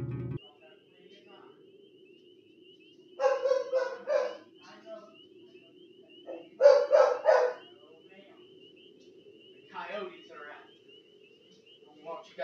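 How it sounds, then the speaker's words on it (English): Dogs bark in short clustered bursts at three separate moments, moderately near, over a low steady background hum. "My dogs want to go out."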